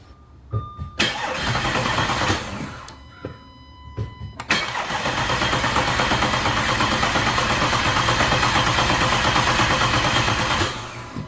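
An Audi 3.2L engine cranks with rapid whirring bursts, stops and cranks again, then catches and settles into a steady loud idle.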